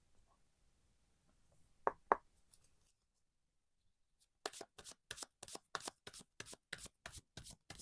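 Tarot cards being shuffled: a rapid series of about ten crisp riffling bursts in a steady rhythm, close and fairly loud, preceded by a couple of soft taps and otherwise quiet.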